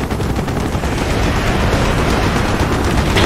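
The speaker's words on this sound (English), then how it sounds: "Taking AAA fire from the deck!" Anti-aircraft fire rages in the video game Call of Duty: Black Ops, a loud, dense, continuous barrage of rapid gunfire and rumbling blasts with no letup.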